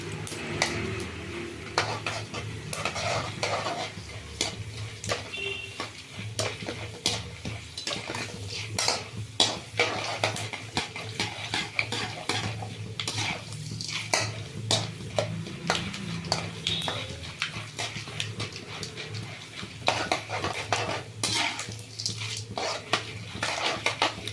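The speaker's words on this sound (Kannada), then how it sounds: "ಕಡಲೆಬೇಳೆ ಎಣ್ಣೆನಲ್ಲಿ ಫ್ರೈ ಆಗಲಿ" Chana dal frying in oil in a pan while a utensil stirs it: a steady, close clatter of metal scraping and tapping against the pan over a light sizzle, with no talking.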